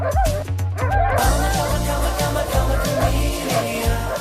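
A pack of dogs barks and yelps loudly as it chases a man, a dense, continuous cluster of overlapping barks, yips and whimpers close by with no talk.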